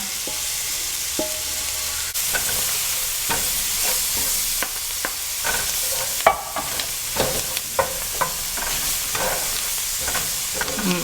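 Vegetables and roux for shrimp étouffée cooking in a pan, with a continuous sizzle and frequent close scraping and knocking strokes from stirring, no talking.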